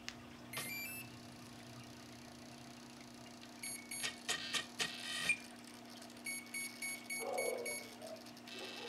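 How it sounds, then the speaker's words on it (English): Hobbywing Platinum electronic speed controller giving startup beeps and arming tones: a couple of short high beeps early, then clusters of quick tonal chirps later, faint over a low steady hum. "you heard the first two beeps, and then when I switched it down to zero, you heard the completed tones saying that it is armed"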